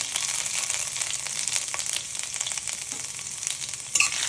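Cumin seeds and ginger frying in hot, smoking oil in a pan, a steady bright sizzle with crackles and a sharp pop near the end, close and with no talking.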